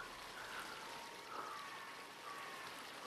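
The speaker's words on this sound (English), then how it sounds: "The water sounds really aggressive." Steady rushing flow of water in the VR game Stones of Harlath on Oculus Quest 2, a continuous faint stream-like wash with no talking over it.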